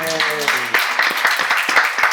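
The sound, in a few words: audience clapping at church seminar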